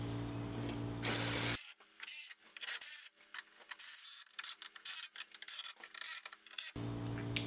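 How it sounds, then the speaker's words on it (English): A tool drives and snugs down screws on an RZR side-by-side skid plate, with whirring, ratcheting mechanical bursts broken by short pauses, close up. "once you get all 7 screws in, go ahead and snug it down."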